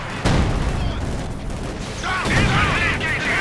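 Tank cannon and anti-tank gun fire from an SU-76 and a Pak 40 in the Company of Heroes 2 strategy game, heavy booming shots and rumbling blasts close in, with faint battlefield mechanisms underneath.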